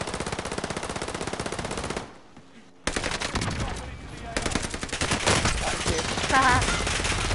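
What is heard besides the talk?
gunfire in a shooter video game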